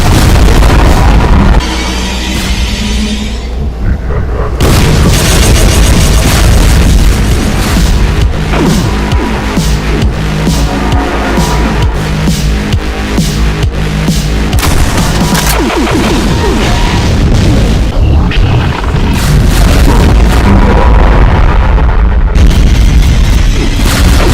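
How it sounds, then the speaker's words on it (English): Dense, continuous barrage of heavy booms and bursting blasts from a Pyro Cannon attack in a Doom mod shooter, explosions overlapping in a loud chaotic roar that barely lets up, with a brief lull near the start. "Pyro Cannon attack."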